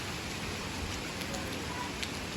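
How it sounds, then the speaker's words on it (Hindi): A light, fine drizzle falls in the mountains during the rice harvest, giving a steady, even hiss of rain with soft scattered patter. "देख सकते हैं बारिश इतनी, एक तो बारीक बारीक वाली बारिश लगी है ना"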